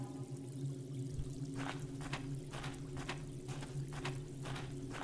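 Running water in a natural well in a video game trickles and pours softly, with faint irregular splashes over a low steady ambient hum.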